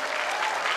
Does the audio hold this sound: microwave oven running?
no